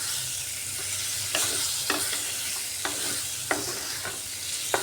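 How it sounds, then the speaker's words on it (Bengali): Pointed gourd and ridge gourd sauté with spices in a pan for a gram-flour potol sabji, a steady sizzle broken by regular scraping knocks of a spoon stirring about every second. "পটল আর ঝিঙ্গাটা দিয়ে আর একটু সময় কষিয়ে নিচ্ছি মশলার সাথে ভালো করে।"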